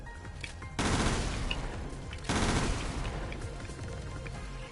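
Hydra weapon fire in Resident Evil Revelations 2, a dense close burst of gunshots swelling twice with a sustained roaring crackle between blasts.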